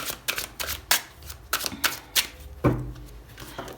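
Tarot cards being shuffled by hand, a close series of quick irregular riffles and slaps with short pauses between bursts, alone without talk.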